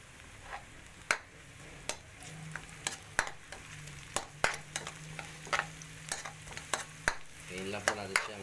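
Onions fry and are stirred in a pan for pork mechado, with a soft constant sizzle under a series of crisp spatula clicks and scrapes that come every half second or so.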